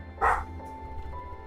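A single short dog bark or yip, moderately loud and close, stands out once against a quiet indoor background hum.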